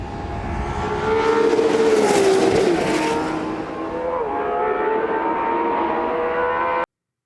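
A Ferrari 812 Competizione's naturally aspirated V12 engine revs hard toward 9,500 RPM, a loud high-pitched wail that climbs, drops and climbs again before cutting off abruptly.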